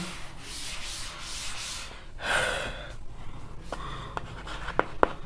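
Rubbing and scraping of an eraser wiping writing off a board during a maths class, a steady soft swishing with a louder sweep midway and a few sharp taps near the end.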